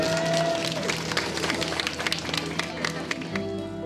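Relieved applause and cheering from a crowd greeting the rescue officials who brought good news, a dense patter of clapping heard under a news narrator's voice.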